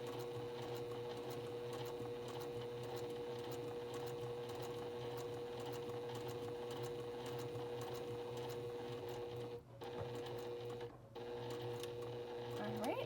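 A sewing machine stitches quilt binding in a fast, steady mechanical chatter, pausing briefly twice as it back-stitches, heard fairly close while a person talks over it.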